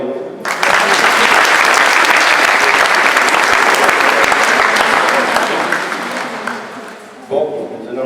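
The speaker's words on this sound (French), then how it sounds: "Vous pouvez l'applaudir." An audience at a volleyball club's season jersey presentation breaks into loud, sustained applause that holds for several seconds, then fades as a voice returns at the end.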